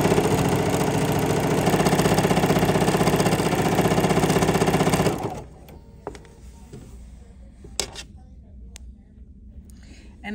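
A sewing machine stitches on a quilted fabric door stop project, a loud steady mechanical whir that runs for about five seconds and then stops, followed by a few faint clicks and handling sounds.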